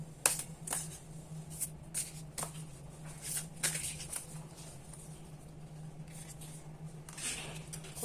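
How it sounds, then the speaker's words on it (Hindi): Tarot cards are shuffled and drawn from a deck in soft, close bursts of papery riffling and flicks over a low steady hum, with no voice present. "तो मैं यहाँ से बीच में से कोई भी एक कार्ड निकाल लेती हूँ।"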